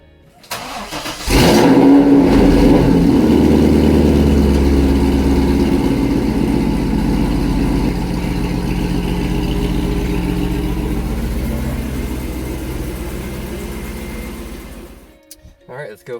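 A Chevrolet Corvette C5 Z06, freshly filled with new transmission fluid, starts up and drives off, its engine a loud, steady rumble that holds for most of the stretch before dropping away near the end.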